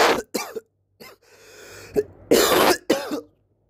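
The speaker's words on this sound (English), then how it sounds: "As you can see, I've been coughing out." A person coughs in several short, sharp bursts with rough throat-clearing between them, close up with brief silences in between.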